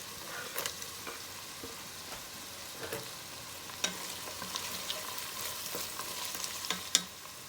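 Carrots fry and sizzle in a pan with garlic, onion and meat for a French garbure, a steady quiet crackle broken by several sharp stirring scrapes and knocks.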